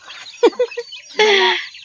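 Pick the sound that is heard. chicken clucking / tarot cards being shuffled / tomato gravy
chicken clucking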